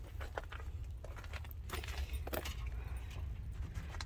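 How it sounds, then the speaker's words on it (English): A bunch of keys jingles on a keychain, close and bright, in repeated irregular shakes with small metallic clinks over a low background rumble. "Keys on the keychain."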